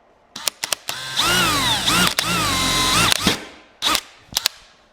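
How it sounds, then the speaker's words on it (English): A power drill spins into an aluminum fuel tank, two sustained runs with whining pitch sweeps as the bit bites, broken by sharp clicks and knocks from handling between bursts, close and loud with no talk. "So we're going to go ahead and drill this hole here and get this going."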